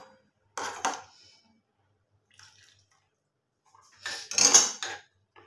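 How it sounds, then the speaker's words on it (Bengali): Milk being stirred into custard in a metal bowl, heard as two short bursts of clinking utensil scraping and tapping against the vessel, separated by near silence, with faint liquid sloshing. "এবার আমি দুধটাকে এই কাস্টার্ডের মধ্যে দিয়ে একটুখানি গুলে নেব।"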